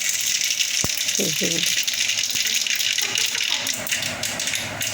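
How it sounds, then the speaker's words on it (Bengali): Loud hissing and popping of mustard seeds frying in hot oil, with a sharp knock near the start and a brief murmur in the background. "সরিষাগুলি ভাজা হয়ে গেলে"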